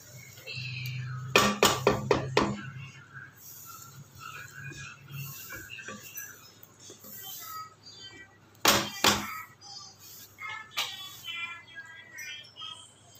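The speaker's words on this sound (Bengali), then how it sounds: "এখন আমি এতে গ্যাস অফ করে ঢেকে দেব।" A metal lid and pan clank and clatter in sharp bursts as a paneer curry pan is covered on a switched-off gas stove, with quieter knocks between them over a faint background hum.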